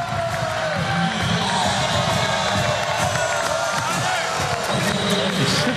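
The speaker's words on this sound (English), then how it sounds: "You should have seen they're booing the umpire" Crowd at a Hawaii men's volleyball match against Concordia-Irvine booing an instant replay call by the umpire; a loud, dense, sustained roar of voices and jeers fills the arena without pause.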